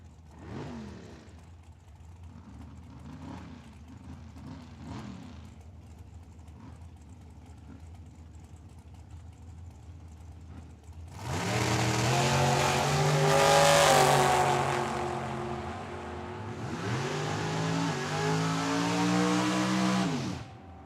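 At a dragstrip, a dragster and a Mustang street car launch in a drag race. Quiet idling and brief revs give way to a loud, roaring run that surges, shifts and fades, then a second blast follows.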